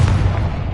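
A Confringo blasting spell detonates in Hogwarts Legacy, giving a short, heavy boom with a deep low-end thump that fills the whole brief moment.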